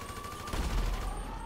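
Rapid, sustained bursts of gunfire in GTA 5 Online crackle continuously over a low rumble, dense and loud throughout with no pauses.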